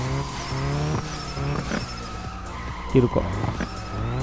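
A Subaru Impreza drifts around a course in a racing game, its engine revving in rising and falling tones over repeated tire squeals, while someone speaks briefly over the driving.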